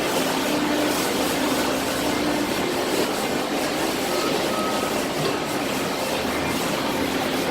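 Big trucks move through a cardboard recycling facility under a loud, steady industrial roar, with faint intermittent reversing beeps barely standing out from the constant machinery noise.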